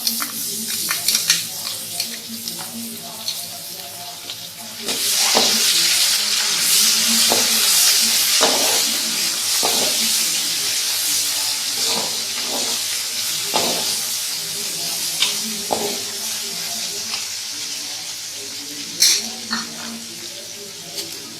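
Garlic and ginger paste hits browned onions in a hot pan, starting a loud sustained sizzle partway through, with stirring scrapes and clinks breaking in at intervals and the frying slowly settling.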